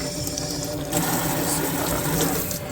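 Tap water runs steadily into a kitchen sink while collard greens are rinsed by hand, a close, even rush broken by soft splashes and faint handling sounds.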